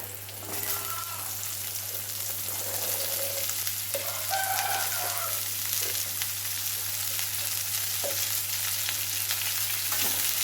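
Bitter gourd and onion pieces fry in hot oil, giving a steady close sizzle with faint stirring scrapes and a low constant hum beneath it.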